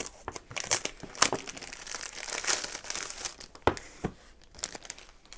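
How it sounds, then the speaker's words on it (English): A cellophane wrapper crinkles and crackles in sharp, irregular bursts as a Take a Note A5 planner is pulled out, loud and close with no talking. "If you don't like crinkle sounds, go ahead and skip forward a little bit."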